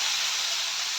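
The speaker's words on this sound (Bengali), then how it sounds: "কুমড়ো ভাজা হয়ে এসছে, আর একটুখানি হবে" Pumpkin pieces frying in oil in a pan, a steady bright sizzle heard close up for about a second with no voices.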